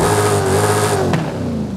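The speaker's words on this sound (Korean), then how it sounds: "어두우니까 시동부터 켜볼게요." A muscle car's engine, heard close and loud, runs with a steady low rumble that rises slightly in a brief rev before settling back.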